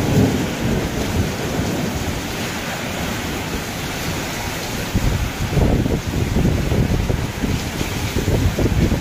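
Heavy rain roars in a thick, continuous wash while deep thunder rolls and swells beneath it, growing stronger toward the end; no voices, loud and enveloping throughout.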